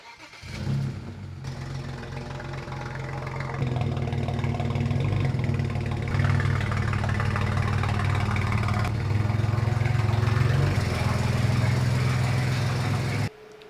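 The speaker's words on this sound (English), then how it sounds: "pull the car into the garage since it's running on all 6 cylinders" A BMW 335i with an N54 engine starts and settles into a steady idle on all six cylinders, a close, even mid-pitched hum that holds for over ten seconds before cutting off.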